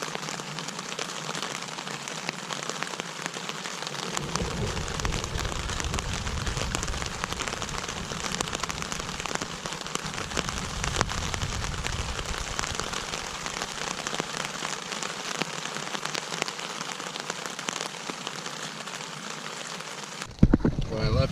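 Steady rain from a thunderstorm pours onto a camp in the woods of Algonquin Park, a dense continuous patter and hiss lasting throughout, with a deep low rumble in the middle and a brief knock at the very end.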